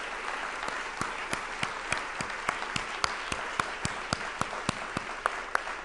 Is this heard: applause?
yes